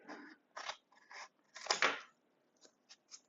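Scissors snip through stems for a home cottage food business, several close, crisp crunching cuts in uneven bursts with a louder double snip midway and lighter clips trailing off.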